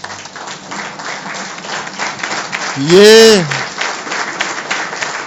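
An audience at a speech in Surat breaks into a short, loud burst of clapping and cheering about midway, while a speaker's amplified voice carries on before and after.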